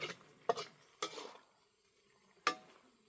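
Chicken offal stir-fried with holy basil in a pan: a handful of quiet, separate scraping stirs of a utensil against metal, with faint sizzling in between.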